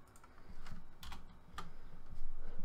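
Keystrokes on a computer keyboard tap out steadily while a folder name is typed, a quiet close-up patter of clicks with slight gaps and no speech.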